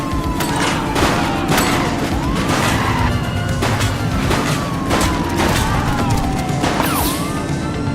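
Gunfire crackles in The Precinct, a police video game, in repeated sharp bursts over a continuous loud roar of vehicle engines and chaos, with sirens faintly underneath, sustained through the whole stretch.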